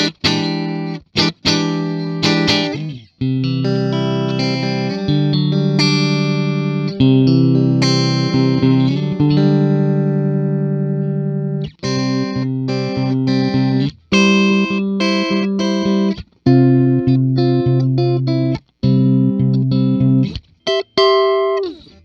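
An Ibanez Ichika Nito ICHI10 headless guitar plays on its in-between pickup positions with a processed, effects-laden tone, ringing chords and notes close and continuous with brief gaps between phrases.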